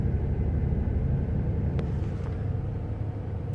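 A 2003 Chevy Impala idling with its engine running, a steady low rumble and hum heard from inside the car, faint and even, with a couple of small clicks partway through.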